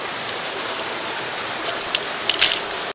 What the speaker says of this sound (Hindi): बहुत ही विशाल चट्टान है और चट्टान के ऊपर से देखिए झरना गिर रहा है।